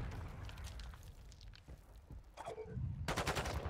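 Gunfire in Modern Warfare 2 ranked play, with an assault rifle firing in rapid bursts at moderate loudness over a busy game background, with a denser, louder volley toward the end.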